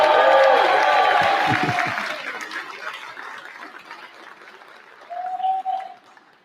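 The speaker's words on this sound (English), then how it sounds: "One more round of applause." Audience giving another round of applause at a live event, loud dense clapping that fades gradually, followed by quieter room noise and a short tonal sound near the end.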